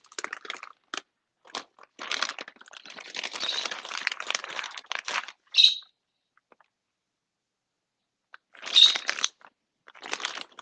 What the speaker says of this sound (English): I hear the birds in the background.